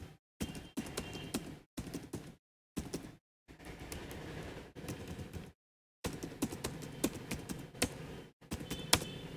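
Numbers being typed into a spreadsheet on a computer keyboard, bursts of quick close key clicks separated by short silent pauses, fairly quiet and with no talking.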